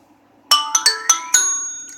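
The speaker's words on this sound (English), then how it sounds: "Did you guys just hear my phone?" A phone ringtone plays close by, five bright chiming notes struck in quick succession that ring on and fade out over a quiet room.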